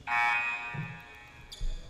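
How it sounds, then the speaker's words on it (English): A loud electronic buzzer sounds once in an adult men's league basketball game, a harsh sustained honk of about half a second, followed by faint gym noise and a soft thump. "Yeah, he hit the buzzer."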